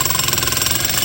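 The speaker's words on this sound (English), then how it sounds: "So that way these things jackhammer way faster" A jackhammer breaks ground while a tiered 6x6 timber retaining wall and stairs are built, pounding in rapid, even bursts, close and loud, with no voices.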